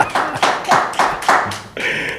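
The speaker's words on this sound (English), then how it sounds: "Can I get an applause up in here?" A handful of slow, sharp hand claps ring out close by in a press conference room after a basketball game, five distinct spaced claps followed by a brief ringing tone.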